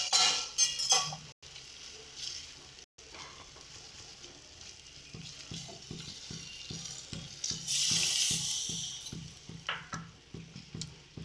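Coconut paste gravy for coconut prawn curry bubbling and sizzling in a pan as a little water goes in, with a steady run of soft rhythmic stirring scrapes and a brief louder hiss of liquid hitting the hot pan.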